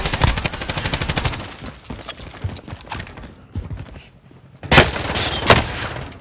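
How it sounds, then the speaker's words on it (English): Bursts of automatic gunfire from the Warzone video game, likely including a PKM machine gun, crackle in rapid strings, ease off briefly, then return louder and closer near the end. "Incoming rounds."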